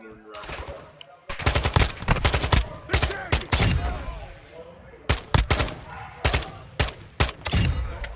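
Loud bursts of automatic gunfire from a Call of Duty match, rapid repeated shots in several clusters with brief pauses between them, close and dominant.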